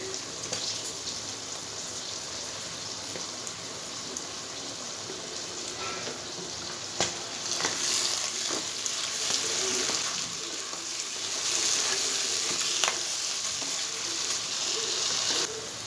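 Onions for soya bean chili fry quietly in a pan, giving a soft, even crackle like light rain that swells slightly toward the end, with occasional faint ticks from stirring.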